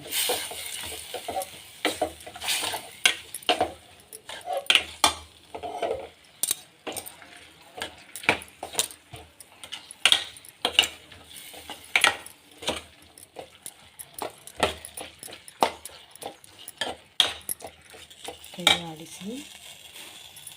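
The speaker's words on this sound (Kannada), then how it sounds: "ಹುರಿದಿರುವ ಪೌಡರ್ ಮಿಶ್ರಣ ಹಾಕಿ ಚೆನ್ನಾಗಿ ಕೈಯಾಡಿಸಿ" A spoon stirring roasted spice powder into a bitter gourd curry in a pan, giving repeated irregular scrapes and clinks against the metal over a soft sizzle, close and moderately loud.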